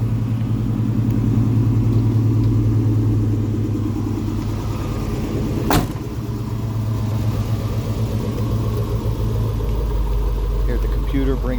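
A 1986 Chevrolet K5 Blazer with a fuel-injected engine idling, a steady low rumble heard from close by that settles to a lower, smoother idle, with a brief click partway through.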